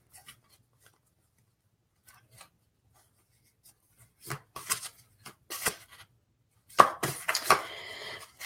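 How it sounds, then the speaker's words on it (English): A mythology-themed oracle card deck is shuffled by hand in quiet surroundings: silence at first, then irregular papery riffling bursts that grow busier and louder toward the end. "All right, shuffling away as I do."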